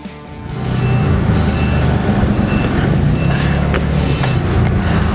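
Reversing beeps ring out during truck unloading, set over a loud, constant engine drone and mechanical rumble that lasts several seconds without speech.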